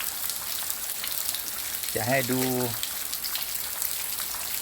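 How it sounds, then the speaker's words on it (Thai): Steady, continuous rain in Pa Sang, Mae Chan, falling in a dense hiss throughout, with someone briefly speaking over it partway through. "ฝนตกแบบนี้ทั้งคืนทั้งวัน ตกแบบต่อเนื่องไม่หยุดเลยเป็นวันที่สี่แล้วนะครับ"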